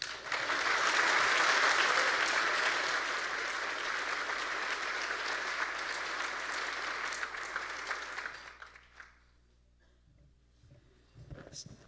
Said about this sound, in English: I'd like to ask all of us to join in some well-deserved applause for Lori and her team at CED.